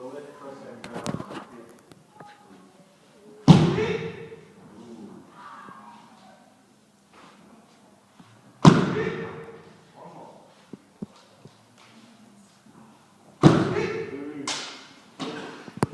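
Three sharp kendo strikes land on armour, spaced several seconds apart, each a loud, close crack with a brief ringing tail, amid quieter shuffling and a voice speaking in the pauses between them.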